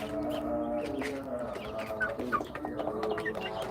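Desi chickens make soft clucks and low burbling calls, several overlapping birds close by, with a short sharper chirp partway through.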